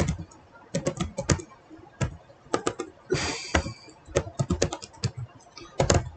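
Fast, close typing on a computer keyboard as an email address is entered, bursts of crisp key clicks in quick irregular runs with brief pauses between them.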